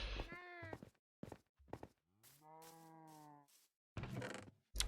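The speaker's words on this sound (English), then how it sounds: "you don't want your cow farm to be too close to your house, or else you're just gonna hear mooing all the fucking time" Blocky Minecraft cows give two drawn-out moos, the first short and rising, the second longer and steadier, with soft footstep-like thuds and clicks between them and a harsher noisy burst near the end.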